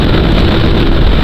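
A KTM RC 200 motorcycle engine, a loud continuous roar at speed on a ride, with heavy wind buffeting over the whole short stretch.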